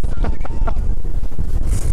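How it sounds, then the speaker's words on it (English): Gusty wind buffets the microphone outdoors on a boat on the Florida coast, rough low rumbling with brief louder bursts over a couple of seconds. "very windy out here"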